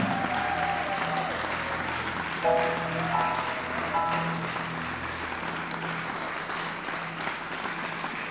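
An audience applauds and cheers at a church service, a dense, steady wash of clapping that stays loud and continuous throughout, with a few scattered voices mixed into the crowd noise.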